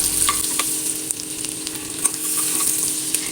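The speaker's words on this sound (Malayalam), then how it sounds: "ഒരു നാല് വെളുത്തുള്ളിയുടെ അല്ലി ചെറുതായിട്ട് മുറിച്ചതും ഒരു രണ്ട് പച്ചമുളക് അരിഞ്ഞതും ഇട്ട് ഒന്ന് വഴറ്റിയെടുക്കാം" Chopped garlic and green chillies sautéed in a pan for a chapathi egg roll, a steady sizzle with light clicks and scrapes of a spoon stirring close by.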